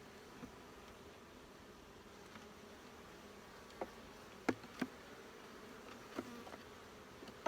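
Honey bees hum faintly in an open hive during a frame inspection, a low steady buzz with a few soft clicks and taps from handling the hive.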